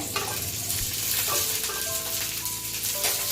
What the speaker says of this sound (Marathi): तो सुद्धा आपण तसाच फ्राय करून घेणार आहोत।